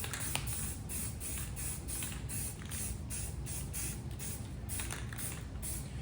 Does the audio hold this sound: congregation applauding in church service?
no